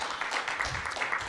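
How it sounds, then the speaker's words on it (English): A church audience gives a brief, steady round of applause for a speaker, a dense wash of clapping at moderate level with no voices. "let's give our speaker another round of applause"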